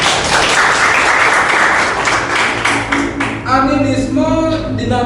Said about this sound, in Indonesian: Terima kasih tepuk tangan buat Bagus